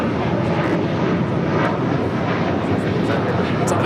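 A Polar Air Cargo Boeing 777 freighter in Exelon Cargo livery departs LAX runway 25 right with a steady, loud broadband jet roar and no clear breaks.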